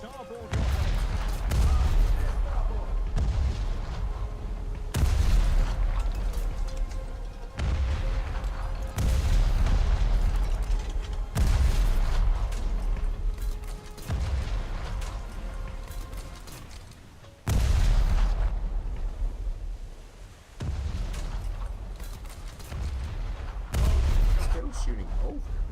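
Heavy naval guns fire repeatedly in the video game War Thunder, loud booming salvos every few seconds over a constant rumble, with a voice talking intermittently.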